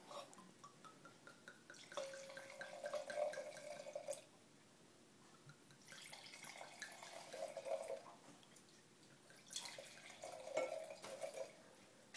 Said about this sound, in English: I'm going to pour. Can I pour everyone a taste?